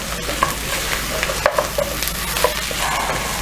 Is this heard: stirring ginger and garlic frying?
yes